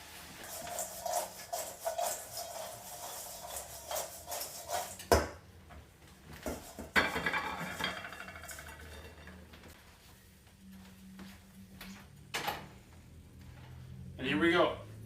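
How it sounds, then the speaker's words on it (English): Fries being plated with dishes and cutlery in a home kitchen while mussels cook, giving scattered clinks, scrapes and shuffling over a steady background hum, with louder knocks partway through and near the end. "So I'm going to pull the fries out, I'll plate those"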